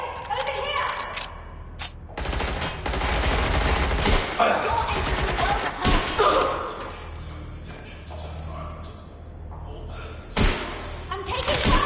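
Rapid bursts of machine-gun fire and single gunshots in a PS4 shooter game with the player under fire, with loud thumps, under excited shouting voices throughout.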